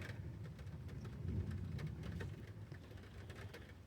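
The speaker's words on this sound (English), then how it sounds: "Now it's starting to rain harder." Steady rain falls outside, a dense, even hiss with low rumbling underneath that holds at a moderate, slightly distant level throughout, with no voices.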